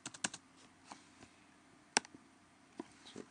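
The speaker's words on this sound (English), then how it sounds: "If we delete that and hit the tab, that will put our spaces in." A few isolated keyboard key presses in the Eclipse 3.7 code editor, spaced sharp clicks with one louder tap near the middle, quiet and close with no talking.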